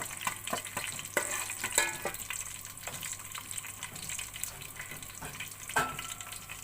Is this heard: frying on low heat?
yes